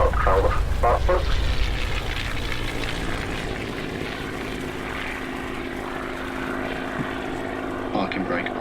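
A P-40C Tomahawk's piston engine winds down after the mixture is cut with the throttle left open, a loud propeller drone easing and settling into a steadier idle-like hum, with brief clatter near the end.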